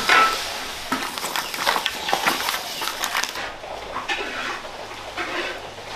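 Peppers pan-fry tiger-skin style in oil, producing a bright, close crackling sizzle that softens and thins after the first few seconds.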